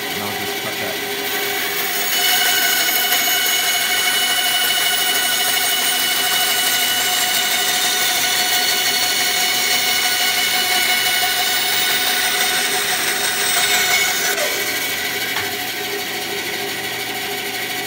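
Power saw with a new blade cutting a three-quarter inch thick piece of hardwood, a loud steady high whine that rises as the blade bites in, holds through the cut, then winds back down, close with no talk.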